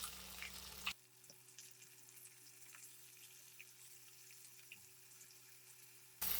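Tomatoes frying in oil in a pan for a South Indian chutney or sambar, a soft steady sizzle with faint crackles running alone at low level, framed by louder bursts at the start and end.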